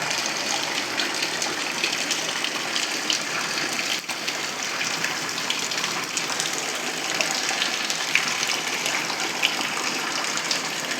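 Heavy monsoon rain pours down, making a steady, dense hiss and roar of falling water that stays constant and loud from start to finish.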